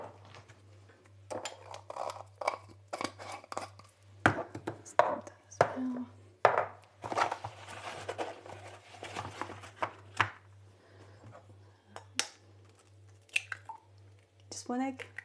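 A single egg is beaten in a cup for gingerbread dough, with quick irregular clinks and taps of utensil against the cup, fairly quiet and close, with some talking in between.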